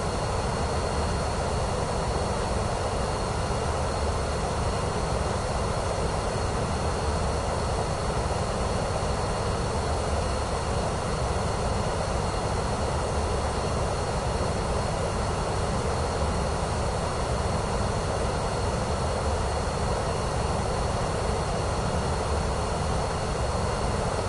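A PC-12 aircraft engine in Microsoft Flight Simulator 2024 on PS5 gives a steady, unbroken drone at even loudness for the whole stretch, with no talk.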